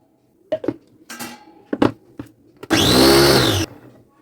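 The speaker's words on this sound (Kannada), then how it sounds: "ಇನ್ನು ಒಂದು ಸಲ ನಾನು ಗರ್ರ ಮಾಡಿಸಿಬಿಟ್ಟು ತೆಗಿತೀನಿ." A mixer grinder grinds rava in one loud, steady burst of about a second, following several short knocks and clatters as the jar is handled.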